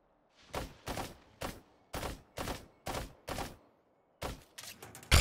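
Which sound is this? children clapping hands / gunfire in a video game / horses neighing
gunfire in a video game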